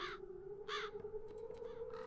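Crows cawing in the fantasy adventure game The Dark Eye: Chains of Satinav, set around a castle in Andergast: two or three harsh caws, close and loud, over a steady droning hum.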